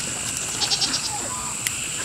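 Goats bleating in a newly built pen, several short nasal calls close by over a steady outdoor background, followed by one brief sharper cry.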